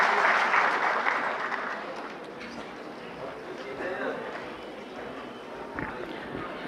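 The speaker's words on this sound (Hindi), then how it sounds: "एक बार तालियों से उनका स्वागत करेंगे" Audience applause at a workshop event welcoming a speaker, a broad steady clatter of clapping that slowly fades over several seconds, with some background voices.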